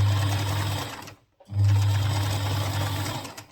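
A sewing machine runs fast and steadily, backstitching the crotch seam of a trouser: a close, loud whirring burst, a brief pause, then a second continuous run.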